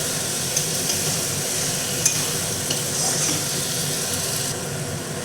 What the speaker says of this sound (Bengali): এবার দিয়ে দিচ্ছি এই যে মাংস দিয়ে দিলাম। ভালো করে কষে নিতে হবে।